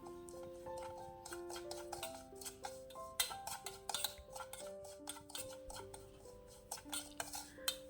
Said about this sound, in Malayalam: ചെറു തീയിലിട്ട് നല്ലവണ്ണം ഒന്നുകൂടി ഒന്ന് വറുത്തെടുക്കണം